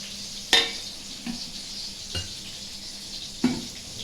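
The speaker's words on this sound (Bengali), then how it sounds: "আর ভাজাটাও চাপিয়েছি দেখো" Slices of pointed gourd and eggplant fry in a pan with a soft, constant sizzle, broken by a few sharp utensil clinks and scrapes, with no voices.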